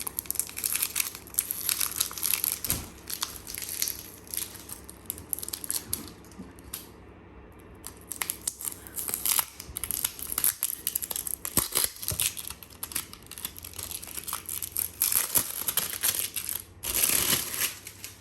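Plastic packaging of a 40 by 40 diamond painting kit being opened, with continuous close crinkling and crushing of wrapping throughout, sharp tearing bursts, and a brief quiet pause midway; no talking.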